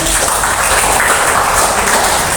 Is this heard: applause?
yes